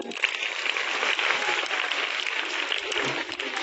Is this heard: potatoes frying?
no